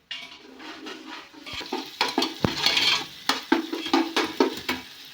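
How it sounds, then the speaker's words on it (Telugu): Ginger paste fries in oil in a pan, a close sizzle broken by scraping stirs and clinks of a spoon against the metal, growing busier partway through, with no voices. "అందుకని నూనెలో వేసి ఎప్పుడైనా సరే ఫ్రై చేసుకుంటే"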